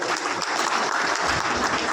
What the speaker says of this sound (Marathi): सन्मान्य राजसाहेबांकरता टाळ्या व्हायलाच पाहिजे